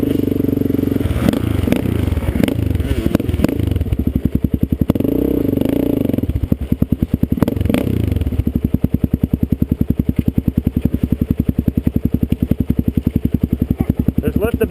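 A Sun L250 dirt bike engine, stuck on its skid plate, revs in loud bursts with clattering and scraping, then settles into a rapid, steady, close-up popping beat as the rider throttles repeatedly.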